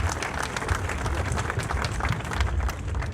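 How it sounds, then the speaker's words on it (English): A crowd applauds at a Salt March commemoration event in India, a dense, steady wash of many clapping hands throughout, with a low crowd murmur beneath. "let's actually clap and thank each one of you for coming over"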